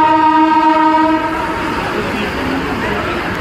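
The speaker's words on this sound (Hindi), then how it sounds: "पीछे अभी ट्रेन स्टार्ट होने वाली है बोल रहे हैं" A Mumbai local train on waterlogged tracks during the first monsoon rain, its horn giving a loud sustained blast up close before fading into a rumbling, noisy station atmosphere.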